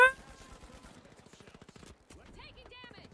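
Rapid automatic turret fire in the video game The Finals rattles in quick bursts of fairly quiet, distant-sounding shots, with a short pause before the firing resumes and a voice over it.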